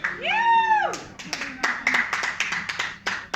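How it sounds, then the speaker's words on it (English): After a short rising and falling whistle-like tone, wedding guests clap in a brief, uneven burst of scattered hand claps nearby during a wedding speech. "Emma gets a clap. I'll get nothing"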